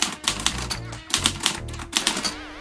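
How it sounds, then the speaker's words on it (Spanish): Typewriter keys struck in quick, uneven bursts of sharp clacks with low mechanical thuds, ending in a short carriage ratchet sound, close and clear. "teclear una máquina de escribir"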